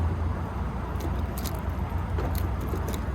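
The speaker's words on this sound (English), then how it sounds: "I always leave the car running when he's in it, no matter what the temperature is, because you can hear my car" A parked car idles steadily with its engine running, a low continuous rumble throughout, while keys jingle faintly and briefly in the foreground.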